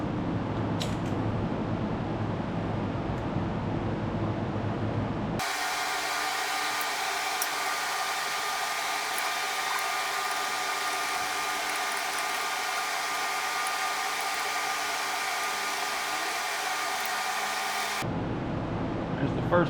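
Steady close mechanical whir of a swivel-head wrench spinning out a bolt on a 2015 Kia Sedona during rear wheel bearing work, running continuously for about twelve seconds between quieter workshop background.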